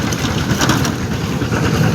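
Rain falls steadily along a mountain road between Phongsaly and Oudomxay provinces in Laos, a dense, continuous hiss that stays loud and even throughout with no voices.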